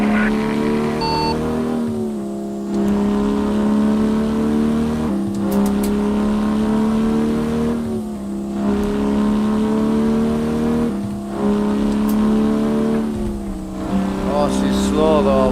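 A two-stroke truck engine in American Truck Simulator, revving hard through repeated climbs in RPM with brief drops between gear pulls, loud and continuous. A voice talks over it at times.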